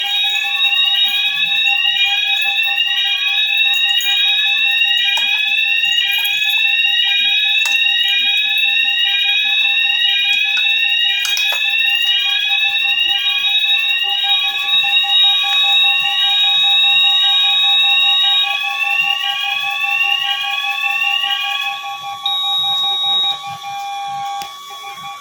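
A fire alarm sounds continuously and loudly in a commercial or office building, a rapid warbling electronic tone repeating without pause, easing off slightly near the end.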